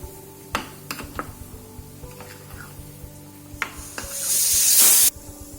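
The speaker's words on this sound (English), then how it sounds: "just going to mix this ENO into this rava, 1 packet ENO. So I will mix it like nicely." ENO powder is stirred into rava idli batter with a spoon, giving soft scrapes and taps, then a loud fizzing hiss as the mixture froths up.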